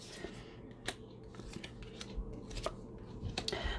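Tarot cards being taken out and handled during a reading, with soft papery shuffles and scattered crisp clicks and snaps at close range, fairly quiet over low background rumble.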